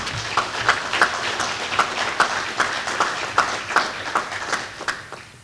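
A conference audience applauds a business association, a steady crowd of clapping with a rhythmic pulse of accented claps, fairly close and with no talking over it.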